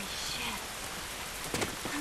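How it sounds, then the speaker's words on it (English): Steady rain falls in the video game The Last of Us, a soft continuous hiss of drops at a low level with a few sharper splashes near the end. "It's raining. Can't do us any good."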